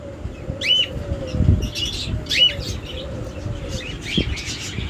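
Breeding pairs of lovebirds in a bird-selling aviary let out repeated sharp, high chirps at intervals, with brief wing flutters and rustling beneath, close and fairly loud over a busy background hum.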